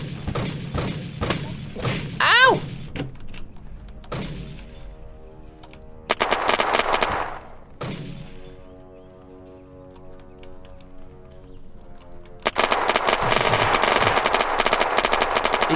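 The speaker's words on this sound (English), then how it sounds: "watch out for the shooting. It's going down." Gunfire in the Unturned game: rapid bursts of automatic shots in the opening seconds, a single sharp report around six seconds, then a long sustained volley near the end, loud and close with quiet gaps between.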